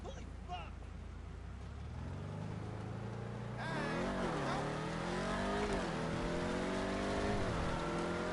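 A car engine revs in the video game GTA Online, its pitch climbing and dipping through loud rising sweeps while people talk over it.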